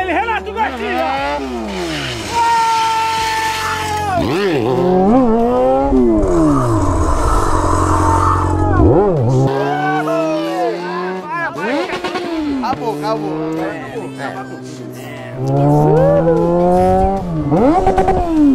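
A Yamaha XJ6 motorcycle revs hard during a wheelie, its engine note climbing and dropping in repeated loud, close sweeps with brief throttle-offs between bursts.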